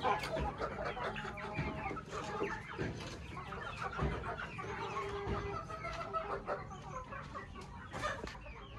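Kadaknath chickens cluck and chatter continuously on a farm, with several birds calling at once at moderate distance and one louder burst partway through, under a steady background of farmyard noise.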